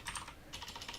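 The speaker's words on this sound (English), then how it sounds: "my typing today is atrocious" Quick bursts of typing on a computer keyboard, close and fairly quiet, with a brief pause between two flurries of keystrokes.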